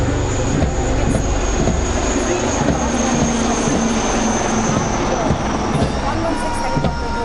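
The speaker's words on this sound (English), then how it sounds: "helicopter unit flying the Rudra formation." Military helicopters fly in formation at an Indian Air Force Day air show, and loud continuous rotor and engine roar fills the air overhead while a commentator talks over it.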